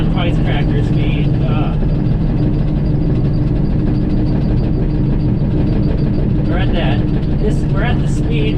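A grain truck loaded with beans drives along on a cold morning, its engine a steady low drone under road noise, while people talk inside the cab.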